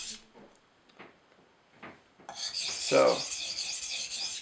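Freehand sharpening of an Esee 3 knife on a slow-cutting stone: a few soft, scattered scrapes, then a steady, close rasping stroke for about two seconds, with a brief spoken word near the start.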